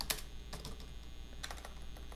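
Irregular clicks and taps of typing on a computer keyboard, a quiet, steady flurry of keystrokes with a few sharper strikes, heard alone without speech.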